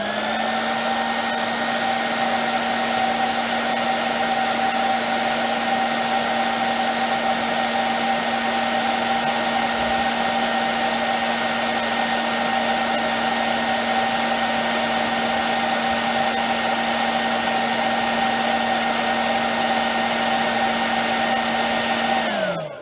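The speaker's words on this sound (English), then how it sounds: "Use some lady's hair dryer though." A lady's hair dryer blows continuously at close range while heating the bearing of a 1950 RCA console record changer motor, a loud steady whine and rush that cuts off at the very end.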